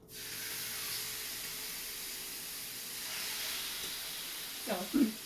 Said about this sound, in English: So we're just searing it in the pan